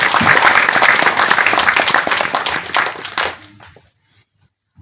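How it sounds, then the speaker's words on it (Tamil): Loud, sustained applause from an audience at a Tamil film event, a dense wash of clapping that carries for about three seconds and then quickly dies away into near silence. "அவருக்கு இந்த சமயத்துல நம்ம எல்லாருமே ஒரு கைதட்டல்"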